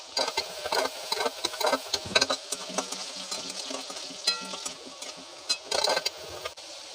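Onions frying in a pan for a home-cooked chicken potato masala, a close, steady crackle and sizzle broken by bursts of stirring and scraping, with no talking.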